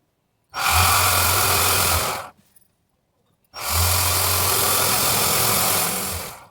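A sewing machine with a zigzag round foot stitches a fall onto a saree in two steady motor runs of about a second and a half and three seconds, separated by a short pause, close and alone with no talk.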